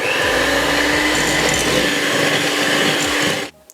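An electric cake mixer whirs steadily as it beats margarine in a bowl, a loud close buzzing drone with slight scraping texture that cuts off abruptly at the end.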